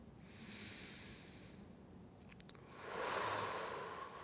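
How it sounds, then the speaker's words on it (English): Slow, deep yoga breaths, a soft airy inhale followed by a louder, fuller hissing exhale, close and quiet with no talk. "Deep breaths here."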